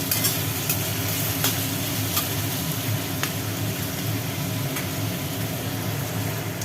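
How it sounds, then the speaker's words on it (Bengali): Potatoes, onions and green chillies frying in a pan give a steady, continuous hiss, with faint scattered clicks of stirring throughout and no voices. "আলু পেঁয়াজটা কাঁচা লঙ্কা সুন্দর করে ভাজি হয়ে গেল"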